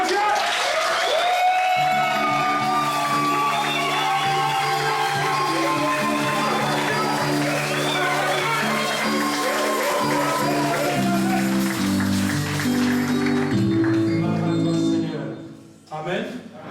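A church congregation at a holiday service in Aigle, Switzerland applauds and cheers steadily, a dense wash of clapping and voices mixed with sustained music and talk, fading out at the very end.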